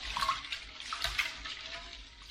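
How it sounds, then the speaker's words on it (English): Brined chicken breasts are rinsed in ice-cold water, giving close, irregular sloshing and splashing in pulses through the couple of seconds, with no talking. "we are going to put our chicken breast into our ice cold water."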